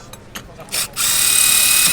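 A few short scraping bursts, then a high-pitched power drill whines steadily as its bit bites into hard tile, loud and close.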